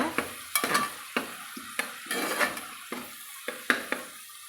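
Spices and tomato sautéing in ghee for mutton biryani, with brisk repeated stirring and scraping strokes against the pan over a light sizzle, about a dozen distinct strokes in steady rhythm.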